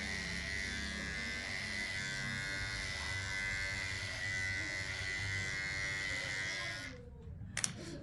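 An electric hair clipper fitted with a 3 mm guard hums steadily as it trims a wig in a sports cut, a continuous close buzz that cuts off near the end with a couple of small clicks.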